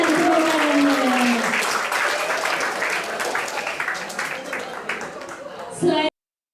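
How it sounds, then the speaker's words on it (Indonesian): Audience applause fills the hall at the official opening of the Palembang city e-sports athlete selection, a dense, steady clapping that lasts about six seconds before stopping abruptly, with some voices mixed in. "Berikan tepuk tangan"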